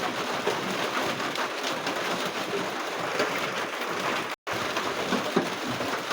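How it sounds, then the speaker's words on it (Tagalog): Steady, heavy rain hisses down outside a provincial home, a dense unbroken wash of sound that briefly cuts out, with no one speaking over it. "Panay ulan naman nito."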